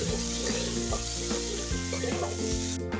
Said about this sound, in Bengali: এখন আমি আলুতে হালকা বাদামি রং আসা পর্যন্ত ফ্রাই করে নেব।